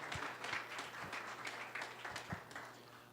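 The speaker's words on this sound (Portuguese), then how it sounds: "Uma salva de palmas para eles." A small audience applauding, scattered claps continuing steadily for a few seconds, fairly faint and distant.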